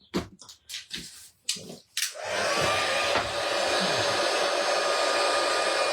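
A heat embossing tool blows hot air over a stamped card with silver embossing powder, a steady loud whoosh starting after some brief clatter and handling noises, continuing alone.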